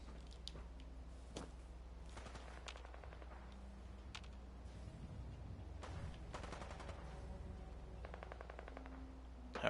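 Nearby combat in Fallout 4 at Boston Common, with scattered gunshots and bursts of automatic fire cracking at irregular intervals over a low background hum, fairly faint and unaccompanied by talk.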